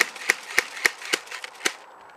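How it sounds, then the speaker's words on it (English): An airsoft gun that has been shaken fires on its own. Six sharp, snappy cracks come close together at an uneven, slightly slowing pace, then fall silent. "if your gun falls apart and it starts shooting by itself"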